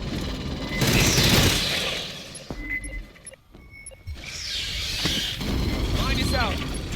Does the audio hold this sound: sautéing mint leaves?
no